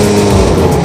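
Snowmobile engine idling after being warmed up, a loud, steady, close motor drone filling the short moment without talk.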